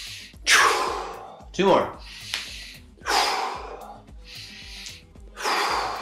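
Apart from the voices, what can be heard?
deep breathing during a yoga exercise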